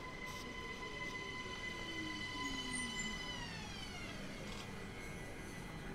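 An electric train in Austria glides into a station with a steady electric hum and whine that falls in pitch as it slows, faint and continuous with no voices.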